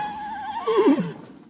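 A horse in a stable lets out a loud, close whinny, a wavering high call sliding down into a lower rumbling snort, alone with no voices.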